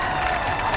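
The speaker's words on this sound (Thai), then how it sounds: "ขอปรบเสียงปรบมือให้หน่อยได้ไหมฮะ" An audience at a K-pop debut showcase and press conference claps in a brief, dense burst of many hands, steady and fairly close, with a hint of cheering and no talk.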